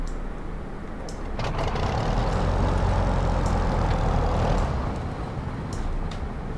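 Klemm 25 light aircraft engine in a flight simulator, a droning engine rumble that swells as the throttle opens, holds a steady loud roar, then eases slightly, with a few faint clicks over it.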